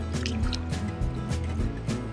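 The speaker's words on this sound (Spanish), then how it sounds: "Vamos a devolverla al agua." A trout slipping back into river water gives small close splashes and drips, with soft sloshing against a low steady background of flowing river.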